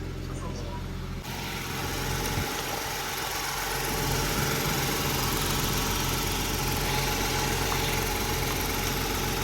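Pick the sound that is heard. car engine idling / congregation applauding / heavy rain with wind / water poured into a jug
car engine idling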